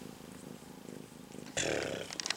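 A cat purrs softly while napping on a freshly made bed, a low steady rumble running through the clip, with a brief louder rustle or shift near the end.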